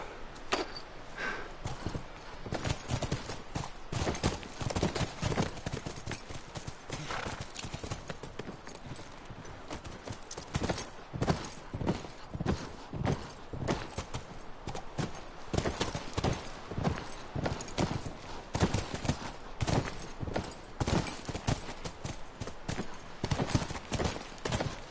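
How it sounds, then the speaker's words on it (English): Horses gallop in The Last of Us video game, a fast, continuous drumming of hooves close by that runs for the whole stretch, with little else heard. "Come on, back to the horses."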